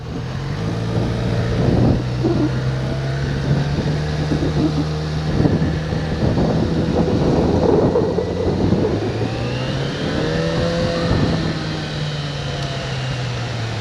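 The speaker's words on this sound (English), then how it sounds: "Still got that inline 4 sound." A Yamaha FZ6R inline-four motorcycle engine idles and revs in a steady, smooth hum, rising and falling in pitch with throttle blips, heard up close with no talking.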